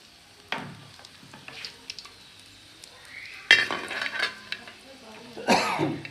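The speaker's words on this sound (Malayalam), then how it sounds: "അല്പം വെളിച്ചെണ്ണ ഒഴിച്ചു. അതിലേക്ക് അല്പം കടുകിട്ട് പൊട്ടുമ്പോഴത്തേന് അതിലേക്ക് വറ്റൽമുളക്" Mustard seeds splutter and pop in hot coconut oil in a home kitchen, with scattered crackling bursts and sizzling over several seconds, accompanied by faint clinks of utensils and a cough.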